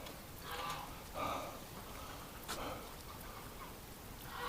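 Steady rain hisses softly in the background, with a few louder swishing bursts mixed in, all fairly quiet and continuous.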